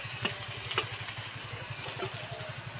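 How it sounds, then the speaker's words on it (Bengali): Onion fries lightly in a pan for a helencha greens recipe, with a steady soft sizzle running throughout and a few faint clinks of a spatula against the pan. "পেঁয়াজটা হালকা করে ভেজে নেব"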